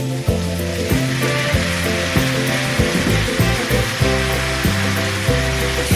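Spice paste with turmeric and chopped dal sizzles loudly and steadily as it fries in a pan, a dense continuous hiss with a low droning hum underneath and light stirring knocks.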